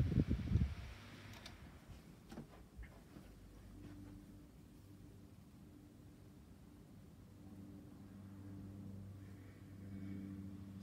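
A newly bought electric fan winds down after being switched off, a low steady rumble and faint hum that gradually settles, heard up close and quiet with no talk.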